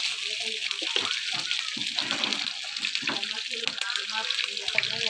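Ingredients fry in hot oil for an Akha-style chicken dish, giving a steady bright sizzle with crackling pops, while a person talks over it.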